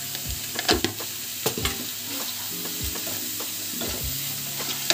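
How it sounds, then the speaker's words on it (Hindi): Spice masala with garam masala and turmeric frying in a pan for palak paneer, a close, steady sizzle broken by repeated stirring scrapes and knocks of a spoon against the pan, no talking. "जब तक मेरा मसाला भून रहा है"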